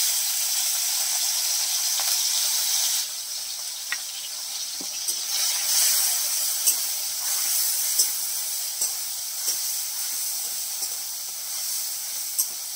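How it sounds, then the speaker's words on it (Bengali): Shrimp fry in a wok, giving a steady loud hiss and sizzle that drops slightly partway through, dotted with small pops and ticks. "চিংড়ি মাছগুলো একটু ভেজে নিচ্ছে"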